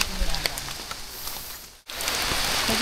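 Steady rain falls on a mountain trail on Mt. Talamitam during Typhoon Ramil, a dense close patter broken by a brief cut, with a few louder taps and some talk underneath.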